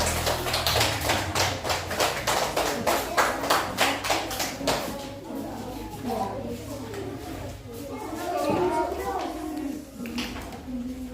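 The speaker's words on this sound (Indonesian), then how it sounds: "Kasih tepuk tangan dulu untuk kelompok 1" Students in a classroom clap in a quick rhythmic pattern for group 1, the close, crisp claps fading after several seconds into children's chatter and a speaking voice.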